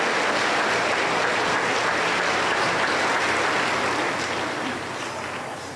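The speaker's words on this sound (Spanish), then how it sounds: "Recibimos al coro del Señor con fuerte aplauso para el Señor Jesús" Loud, sustained applause from a Pentecostal church congregation welcoming a women's choir, dense clapping filling the room throughout and easing slightly toward the end.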